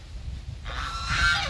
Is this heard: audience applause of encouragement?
no